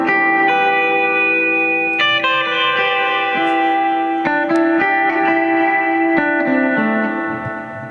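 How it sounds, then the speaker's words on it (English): Electric guitar through a Cathedral Reverb pedal into a Vox AC10 amp, ringing strummed chords with long washing reverb tails, several fresh attacks over about eight seconds, loud and alone. "I tried the Cathedral Reverb through the Vox AC10"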